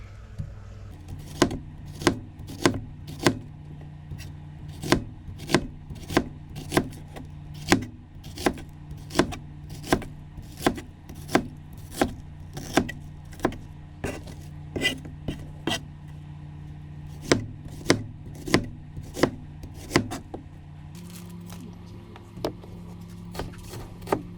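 An onion being cut lengthwise on a cutting board, a long series of sharp evenly paced knife chops over a low steady hum, close and without talk.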